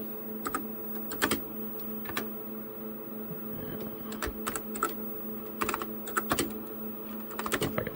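Keys clatter on a TRS-80 Model 16 computer keyboard in short irregular bursts of close, crisp keystrokes separated by pauses, over a steady low machine hum.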